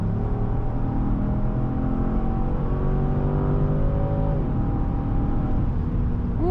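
A Genesis GV70 SUV accelerates hard, its engine note climbing steadily through one gear before a quick upshift drops the pitch and it pulls again, heard from inside the cabin over a constant road rumble.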